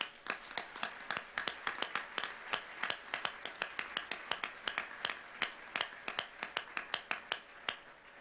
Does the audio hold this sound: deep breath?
no